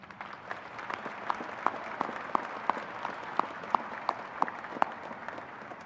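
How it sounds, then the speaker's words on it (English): A UM commencement crowd at the Fall 2024 ceremony gives sustained applause, an even wash of clapping with sharp individual claps popping out above it. "Please also give these individuals a round of applause."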